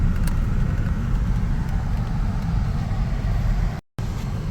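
A Toyota Innova Reborn petrol car drives along with a steady low engine and road rumble, continuous and close, with a brief dropout near the end and no clear gear-change surge.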